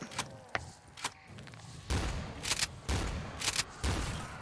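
Shotgun blasts fire in Black Ops 3 custom zombies on The Goonies Mikey's Attic map, several booming shots at roughly one-second intervals with fainter sharp cracks before them.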